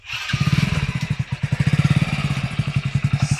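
A motorcycle engine idles close by with a steady, rapid chugging pulse, loud and continuous with no one talking.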